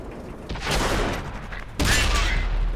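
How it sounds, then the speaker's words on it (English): A shell strikes a heavy tank's turret in World of Tanks on Xbox One, the T28 HTC tier 7 tank destroyer, heard as two loud blasts about a second apart over a steady engine rumble. "you see I took a direct hit to my turret"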